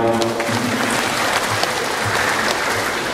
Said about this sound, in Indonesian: Ini tepuk tangan untuk beliau